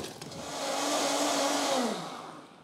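A kitchen blender purees soup in one steady whirring run, rising in strength and then winding down near the end, loud and alone without talk.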